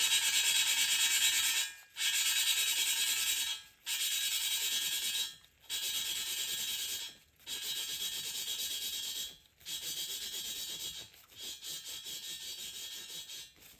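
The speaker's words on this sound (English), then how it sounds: "I'm not getting the heavy grinding, I'm just getting the smooth grinding" An engine valve from a rebuilt BMW 328i N20 engine is lapped with grinding compound, making a steady, gritty rubbing grind in about seven long strokes separated by brief pauses, close up and alone.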